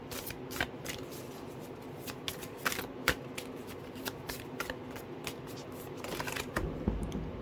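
A deck of tarot cards is shuffled by hand, giving soft, quick riffling and sharp flicking snaps scattered throughout, fairly faint and close, with no talking over it.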